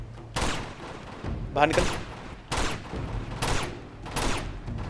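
Gunfire from the video game Uncharted 2 comes as a series of heavy, booming shots in irregular bursts, while a voice speaks over the fighting.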